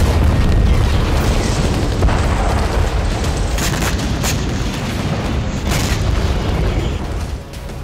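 Phosphorus bombs explode over Gaza in a loud, continuous barrage of deep booms and rumbling blasts that overlap without pause, dense and distorted throughout.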